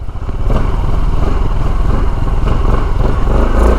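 A 213 kg SYM ADXTG 400 scooter motorcycle runs on the road, its engine rumbling loud and steady up close, with slight throttle swells and no talk.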